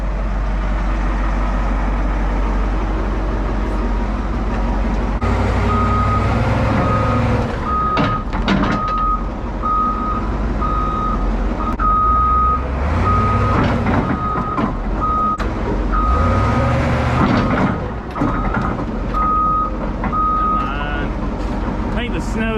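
A forklift drags a stuck 1965 Dodge Power Wagon in gear, its engine roaring loud and close while a repeating reversing beep sounds in regular pulses, with low strained rumbles and a few clunks.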